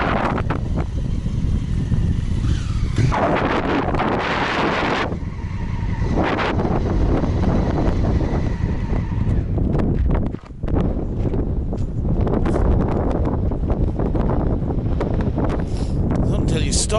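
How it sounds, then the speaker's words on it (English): Strong wind buffets the microphone on a desert trail ride, a loud continuous low rumble filling the whole stretch with a brief dip partway through, while people talk underneath. "It's not until you stop that you realise how strong that wind is."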